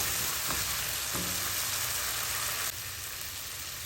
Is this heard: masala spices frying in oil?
yes